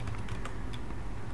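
Command being typed on a computer keyboard, a steady run of quick close clicks and key taps with no talk.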